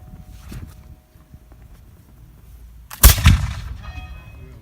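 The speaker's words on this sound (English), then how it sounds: "Clearing misfire. Take aim. Fire." Historic gun fired at a fort demonstration, a single sharp booming report partway through with a rolling echo, after a quiet outdoor stretch with faint movement.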